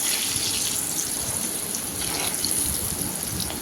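Potatoes fry with turmeric in a pan, giving a steady, hissing sizzle like rushing water that holds at an even level throughout, with no voices.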